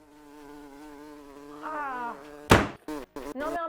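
A large fly buzzes continuously with a wavering, rising pitch, followed by sharp loud thuds and clicks in short bursts as if something swats or strikes, no speech.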